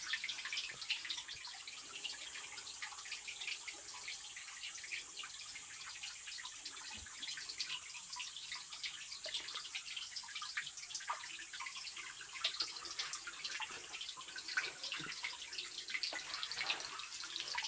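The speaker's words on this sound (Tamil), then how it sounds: "ஆனால் இந்த தண்ணியோட சத்தத்தை கேட்குறதுக்கு" Mountain water flows and splashes steadily at Jalathavalingam on Sathuragiri hill, a continuous bright, hissing rush with small drips and spatters, close and even throughout with no talking.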